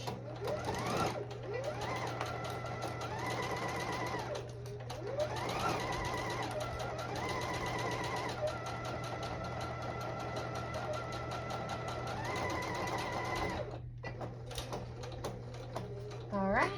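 A sewing machine stitches the shoulder seams of a dress in long, steady whirring runs with brief pauses between them, close and continuous under a low background hum, while a voice speaks softly over part of it.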